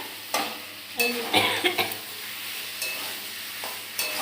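Spice paste fries in oil in a pan while fish is being cooked, sizzling and crackling under repeated scraping and stirring strokes, with a few louder clatters of the spoon against the pan.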